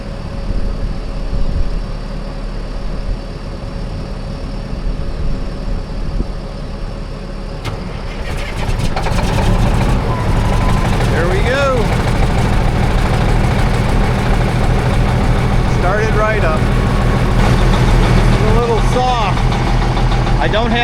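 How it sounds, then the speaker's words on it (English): Truck engine cranking and catching, then settling into a loud, steady rough idle with low rumble, as people talk nearby. "Okay, Lisa's going to try starting it up"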